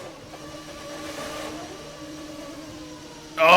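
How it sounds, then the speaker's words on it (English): Race car pulling out of the pits after a stop in a racing video game, a steady mid-pitched engine drone with faint rising harmonics holding at moderate level, then a sudden louder burst at the very end. "Dump the clutch and out we go."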